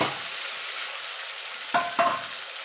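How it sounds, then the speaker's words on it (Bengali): Kochu shak (taro leaves) hiss softly in a frying pan while a spoon scrapes through them twice in quick succession near the end. "এবার ভালো করে নেড়ে নেব।"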